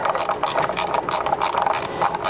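Quick ratchet clicking while engine bolts are snugged back down on a Toyota 80 Series Land Cruiser with a 1FZ-FE engine during a tune-up, a close, loud, continuous run of rapid pawl ticks with no speech.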